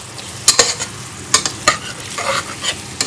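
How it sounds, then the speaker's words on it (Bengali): Boiled potatoes being mashed in a pot to make chop filling, with scattered scraping and thudding strokes in uneven bursts over a faint sizzle, close and fairly loud, with no voices. "আলু ম্যাশ করছি এটা দিয়ে চপ করবো"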